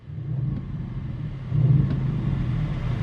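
A low, muffled Audi RS6 engine rumble idles and then swells slightly in a soft, subdued rev, barely louder than the background hum.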